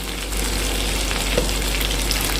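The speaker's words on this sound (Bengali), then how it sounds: "এই সমস্ত সবজিগুলো হালকা করে ফ্রাই হয়ে যাওয়ার পরে আমি এবার দিয়ে দেব ডুমো করে কেটে রাখা কুমড়ো" Diced pumpkin goes into lightly fried mixed vegetables for a Bengali labra, and a loud, dense, steady sizzle of oil fills the moment, close and unbroken, with faint stirring beneath.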